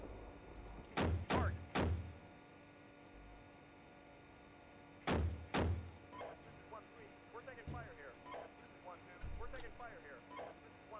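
Tank cannon fire in the Steel Beasts Pro combat simulator, heard as several heavy booming blasts, three in quick succession and then more spaced shots. Radio chatter and voices run underneath.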